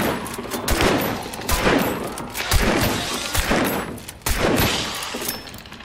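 Gunfire in the video game Hunt: Showdown: several loud, close shots ring out at irregular intervals with sharp attacks and reverberant tails, one after another with no voices.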